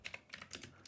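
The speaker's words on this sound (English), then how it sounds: "by pressing the back button on my keyboard" Keys on a computer keyboard are pressed in a quick burst of about five crisp, close clicks in a quiet room.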